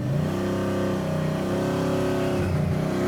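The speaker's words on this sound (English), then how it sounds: "Me, I just let the motor speak for itself and let it overpower" A Mopar car's engine revs hard and steadily during a burnout, a loud, sustained mechanical roar with slight pitch wavers and no talking over it.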